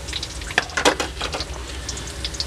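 Chicken liver frying in a pan, a close, steady sizzle with a few brief clattering stirs and crackles, no voices.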